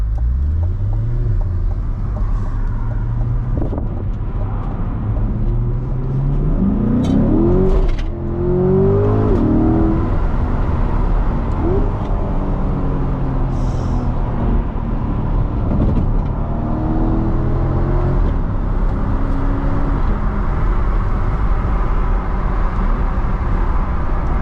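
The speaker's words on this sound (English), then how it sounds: "I'm gonna keep these windows down a little bit, and I really just want y'all to hear this car" A Chevrolet C8 Corvette Stingray with a dual-clutch transmission accelerates hard with the windows down, its engine revving in rising sweeps through quick gear changes, loud and close from inside the cabin, with no talking.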